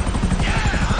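Helicopter flying in the GTA V video game, a steady low rotor chop with a continuous engine whine, loud and close throughout, with talk over it.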